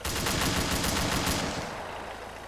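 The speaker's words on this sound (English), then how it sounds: "it has a chain gun, which you also press space to shoot" A chain gun mounted on an armored vehicle in the BRM5 video game fires a rapid, steady burst of heavy rounds for about a second and a half, then the roar fades into a lingering rumble.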